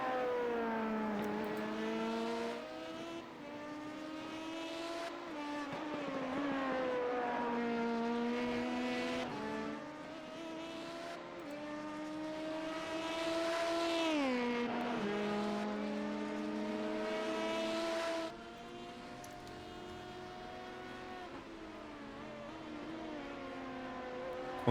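LMP2 sports prototype race cars lap the Monza circuit during practice, engines rising and falling through gear changes as they pass, with a steady mid-distance roar that swells and fades over the span.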